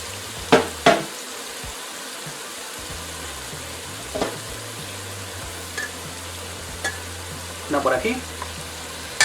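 Chicken pieces for Peruvian seco de pollo sizzle and fry in a pan, a steady hiss broken by a few sharp crackles and stirring clatters as the pieces are added and moved, with a brief spoken remark.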